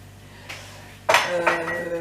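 Dishes being stacked into a home dishwasher, with a soft clink, then a louder burst of clattering crockery and a second knock, close and alone with no talk.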